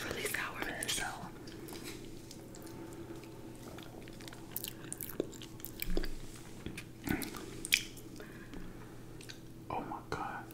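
Chewing sour gummy candy and gel shooters at close range, with soft wet squishes and bites alongside whispered talk.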